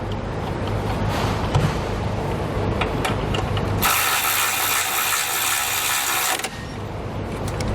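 A ratchet clicks rapidly and steadily while a 12mm horn bolt is tightened on a 2014 Honda CR-V, close and continuous, with a brighter grinding rasp in the middle stretch.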